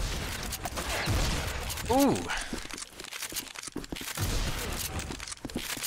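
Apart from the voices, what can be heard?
lever-action shotgun fire in a video game, Dusk weapons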